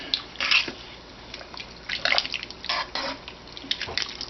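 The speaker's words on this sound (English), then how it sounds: "I'll stir this up and take a peek" A spoon stirs deer and vegetable soup in a pressure cooker, giving a few irregular wet sloshes and clinks, close and fairly quiet, with pauses between strokes.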